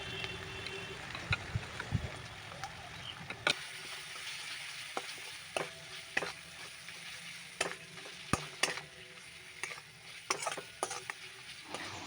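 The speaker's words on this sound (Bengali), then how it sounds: "এই মশলাটাকে ভালো করে নাড়তে থাকবো যতক্ষণ না তেল ছাড়বে" Spice paste sizzles steadily in hot oil for a Bengali kachkola kofta curry, while a spoon stirs and scrapes the pan with sharp, irregular clicks over the continuous frying hiss.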